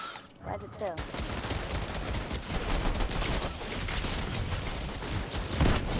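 Dense gunfire in the Fortnite video game, Chapter 5 Season 1, rattles nonstop at full loudness for several seconds, a rapid fusillade of overlapping shots with voices mixed underneath.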